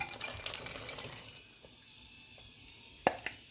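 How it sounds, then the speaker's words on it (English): Grated coconut is dropped into a pot of water with a cinnamon leaf, starting with a watery rush and splash that fades into quiet, followed by a few light clinks and knocks against the pot. "I put on 2 cups of water with my cinnamon leaf. So I'm going to add my coconut to it"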